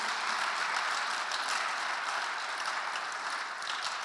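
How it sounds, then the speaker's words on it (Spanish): A church congregation claps together during an evangelical Spanish-language service, a dense, steady wash of applause that holds for about four seconds with no voices over it. "Den un aplauso al Señor"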